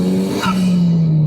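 A 2021 Ariel Atom sports car engine drones steadily at high revs while driving, loud and close, with a brief shift in pitch partway through.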